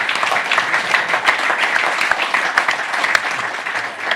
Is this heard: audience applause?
yes